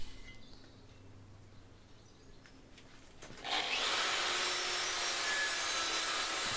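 A sanding sleeve on a rubber mandrel grinds a farrier's rasp being shaped into a cleaver, cutting in abruptly after a quiet stretch and holding a loud, steady abrasive hiss up close.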